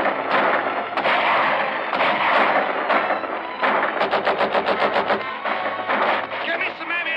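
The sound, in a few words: gunfire in battle scene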